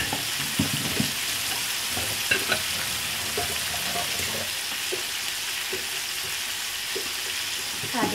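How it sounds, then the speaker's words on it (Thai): Pig ears stir-fried with ginger and pork in a hot pan, a constant loud sizzle with scraping and stirring clatter throughout, someone talking softly now and then beneath it. "เดี๋ยวเราจะมาคั่วเขาให้ ได้กลิ่นนิดนึง"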